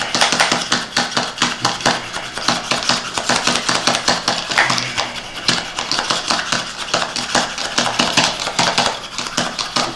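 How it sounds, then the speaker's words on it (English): Garlic gets chopped with a knife on a cutting board in quick, steady taps that keep going for several seconds, close and clear, with no talking. "You want to get it chopped up pretty good."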